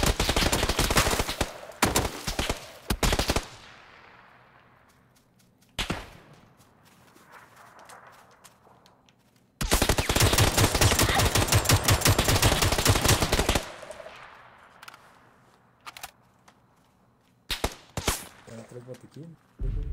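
Loud bursts of automatic gunfire ring out in the PUBG video game. Rapid machine-gun volleys alternate with short gaps and single shots, and someone talks briefly between the bursts.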